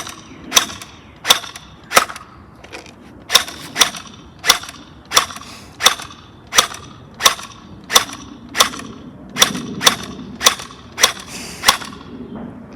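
Nerf gel blaster firing orange translucent gellets, a regular series of about sixteen sharp, snappy pops at roughly one-second intervals, close and alone without speech.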